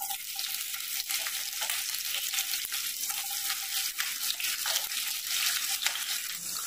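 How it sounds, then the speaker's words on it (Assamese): Onion hitting hot oil with whole cumin, coriander seeds, cloves and cardamom makes a loud, continuous frying sizzle, broken by regular scraping stirs of the pan, with no voices. "তাৰপিছতে তেলত দিম পিঁয়াজ"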